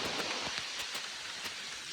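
Rain falls steadily and softly with a constant hiss and scattered drop patters, fairly quiet and uninterrupted.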